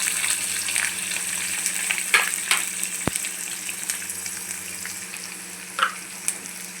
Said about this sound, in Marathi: कांदा पण घालूया.